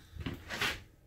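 Glass pantry door in a 2019 Alpha Wolf 23RDL travel trailer swinging open, a short, soft clack and rattle followed by a brief brushing slide, fairly quiet and alone.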